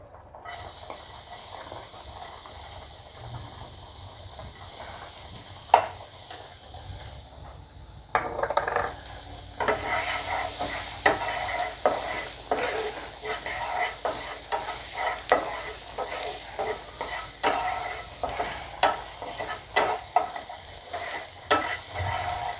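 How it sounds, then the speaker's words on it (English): Onion and garlic sautéing in fat in a pan, a steady close sizzle with scraping stirs and clinks that grow busier after a pause partway through. "Now in the same fat we will saute onion and garlic."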